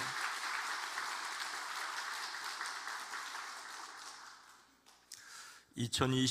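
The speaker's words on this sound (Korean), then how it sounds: "박수 한번 다시 한번 해주시죠." Congregation applauding during a Sunday church service, a broad wash of clapping that gradually fades, followed by a short voice and a few louder sounds at the end; a pastor's speech follows.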